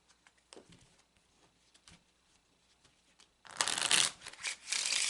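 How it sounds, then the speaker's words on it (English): A deck of playing cards is shuffled on a table, starting with scattered soft flicks and taps, then a loud, dense riffling burst that runs in close-up waves to the end with no talk. "I'm going to take a few moments to shuffle the deck."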